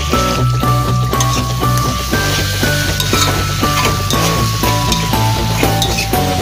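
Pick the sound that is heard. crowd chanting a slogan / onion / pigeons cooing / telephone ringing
onion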